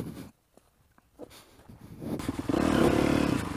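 A powerful motorcycle on a trail starts up and its engine quickly swells into a loud, sustained rev after some clatter and rustling, close by with no talk.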